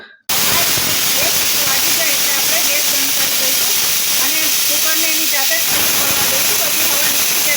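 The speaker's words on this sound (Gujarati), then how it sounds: "કુકર બંધ કરી દેવાનું છે અને સીટી મૂકી અને બે સીટી વગાડી લઈએ" A pressure cooker on the stove, boiling water chestnuts, vents steam in a loud, sustained rushing hiss that starts abruptly and runs unbroken, close to the microphone, with faint speech underneath.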